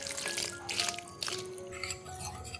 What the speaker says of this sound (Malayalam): ഇനി ഇതിലേക്ക് കുറച്ച് വെള്ളം ഒഴിച്ച് കൊടുക്കുന്നുണ്ട്